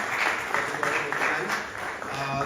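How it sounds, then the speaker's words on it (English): Audience applause at a cricket awards night in Belgium, a steady wash of clapping filling the room for a couple of seconds with faint voices mixed underneath. "big round of applause to Nick and their family"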